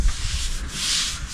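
Sandpaper rubs against a spalted maple hollowform spinning on a woodturning lathe, a steady, loud, close-up hissing scrape with gentle swells in intensity.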